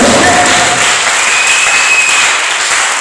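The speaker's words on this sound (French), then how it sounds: "Est-ce que tu peux m'acclamer Jésus?" A church congregation applauds and cheers for Jesus, a loud dense wash of clapping that fills the room and fades slightly toward the end, with a few whistles over it.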